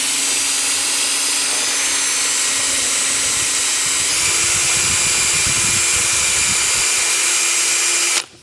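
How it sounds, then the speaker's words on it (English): Electric drill spinning a nylon brush inside the valve bore of a 1999 Honda Accord automatic transmission: a steady close whine that steps slightly higher in pitch partway through, with scrubbing noise, then cuts off sharply at the end. "I've got the nylon brush on a drill here"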